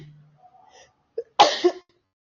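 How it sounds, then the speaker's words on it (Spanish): A single loud, close sneeze bursts out after a faint intake of breath and a short catch, in an otherwise quiet room, and no one talks over it. "voy a estornudar."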